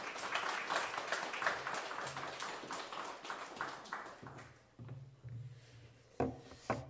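A church congregation at a Thanksgiving Sunday service claps to welcome the pastor, a moderate patter of applause filling the first four seconds, then thinning into scattered claps and low voices.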